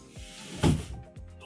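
A drawer slides along rails made from sanded hardwood finishing strips inside a cargo trailer conversion, giving a rubbing wooden scrape that swells into a louder bump and settles into a softer drag, with no voices.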